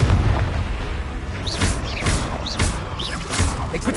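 Confringo fire-blast spell in Hogwarts Legacy, a loud sustained booming roar with swooshing bursts and rumbling impacts, layered game effects filling the whole span.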